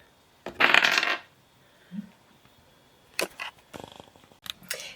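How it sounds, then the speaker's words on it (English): Dice rattle and tumble in a loud burst near the start, followed by a few short, sharp clicks and knocks as they settle, recorded close with no talking. "So I just rolled the dice"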